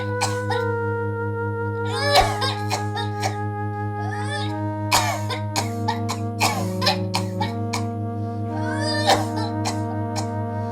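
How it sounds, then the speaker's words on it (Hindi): A woman coughs repeatedly in short, harsh bursts spread irregularly across the clip. The coughs sit over a constant tonal background hum, and no speech is heard. "खांसी ज्यादा हो रही है।"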